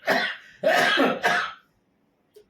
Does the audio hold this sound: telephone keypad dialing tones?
no